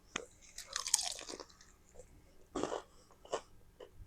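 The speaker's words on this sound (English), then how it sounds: "Man, it's got some real crunch." Crunching bites of KFC fried chicken in Phuket, a few sharp crisp crunches with chewing between them, close up and with no talk.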